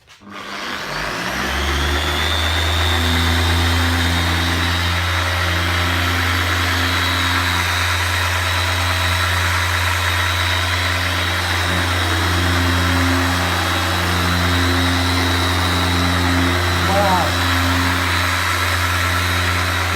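A Makita PO6000C polisher fitted with a microfiber pad runs steadily and loudly for the whole stretch, a constant motor whine and hum with no talking.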